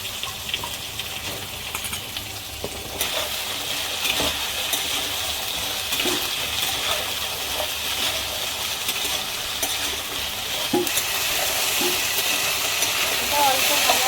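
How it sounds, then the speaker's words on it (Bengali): Eggplant, pumpkin, potato, taro and ridge gourd frying in a pan, a steady close sizzle and hiss throughout with occasional clinks of stirring. "এগুলো আমি একটু ভেজে নিচ্ছি"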